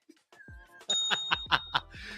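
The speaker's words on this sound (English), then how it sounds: "You better hit that bell again." A bell is struck several times in quick succession, each ring clear and bright over a faint background, with a brief spoken or laughing sound before the rings during a live fireworks talk show.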